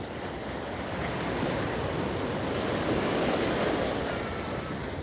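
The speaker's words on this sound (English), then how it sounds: "those waves are just lively today" Surf rolls in steadily at Waikiki beach on Oahu, a continuous broad wash of lively ocean waves with a bit of wind noise on the microphone, loud and close throughout with no talking.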